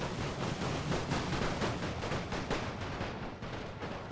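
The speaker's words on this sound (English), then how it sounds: "We are receiving quite a bit of fire coming from over there." Dense, continuous gunfire and artillery booms rumble through a World War I battle in a video game set in Serbia, steady and loud with no pauses.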